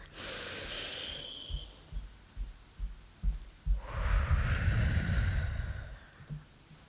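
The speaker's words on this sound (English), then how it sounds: "Take a deep breath." A person takes a slow, deep breath, a soft whistly inhale followed by a low heavy exhale with close thumping breath noise, intimate and quiet with no talking.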